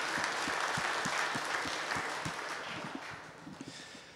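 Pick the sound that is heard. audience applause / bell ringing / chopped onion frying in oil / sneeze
audience applause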